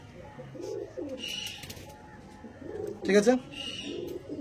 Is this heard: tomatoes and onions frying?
no